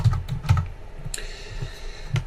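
Keystrokes on a computer keyboard while entering a search into a stock screener, a quick irregular run of light clicks, close and fairly quiet.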